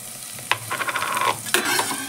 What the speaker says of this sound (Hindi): यहाँ पर तेल गरम हो गया है, अब हम इसमें मसालों का पेस्ट डालेंगे।